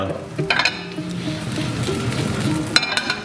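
A little oil goes into a frying pan, with a soft steady sizzle, a couple of clinks of utensils against the pan and a brief low voice in the background.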